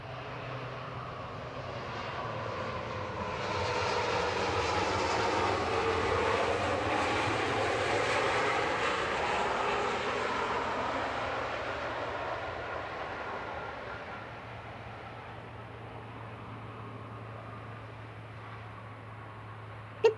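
An Embraer 195-E2 jet arrives from Amsterdam at Manchester Airport, its roar swelling over the first seconds, holding, then fading gradually over a steady low hum before a brief sharp knock at the very end.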